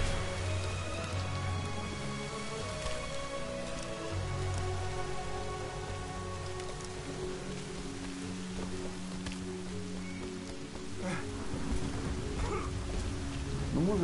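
Steady rain patters and hisses throughout a scene in the video game Lara Croft and the Temple of Osiris, with low tonal game music and ambience humming underneath at moderate level.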